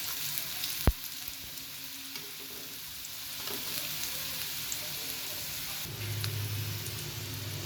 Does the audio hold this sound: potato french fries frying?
yes